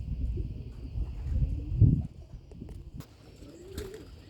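Young homing pigeons coo softly around a loft on their first outing, low throaty calls repeating close by amid rustling and shuffling, with one louder coo near the middle.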